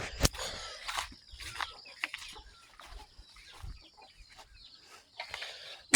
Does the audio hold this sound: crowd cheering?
no